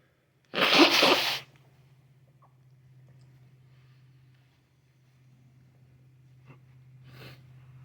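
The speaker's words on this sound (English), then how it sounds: "I do need to blow my nose." A person eating ghost pepper chicken noodle soup gives one loud, close, forceful nose blow of about a second, followed by quiet room hum and a few faint small sounds.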